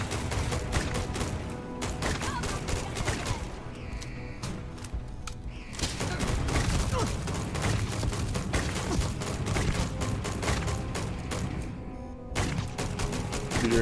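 Sustained gunfire in the sci-fi video game Starfield, with dense, rapid volleys of shots and impacts that pause briefly and then resume, continuous and fairly loud throughout.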